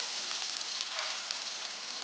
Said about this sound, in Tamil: கடுகு பொறித்து கொஞ்சம் பெருஞ்சீரகம் போடுவோம்